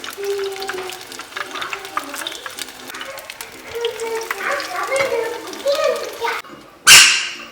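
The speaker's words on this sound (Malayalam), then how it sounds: "അമ്മ അത് വറുത്ത് കോരിക്കൊണ്ടിരിക്കുകയാണ് കേട്ടോ" Onion vadas deep-frying in hot oil give a soft continuous sizzle beneath ongoing conversation, with a dog barking nearby and a sharp, louder burst of noise near the end.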